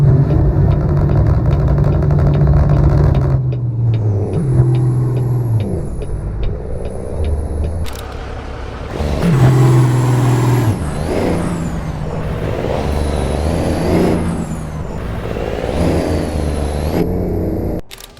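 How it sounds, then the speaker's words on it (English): A modded truck engine in American Truck Simulator idles with a deep rumble, then revs and accelerates through gear changes, with air brake hisses and a high whine between pulls, loud and close with no talk. "Every engine has its own unique idle, acceleration, and engine brake sound."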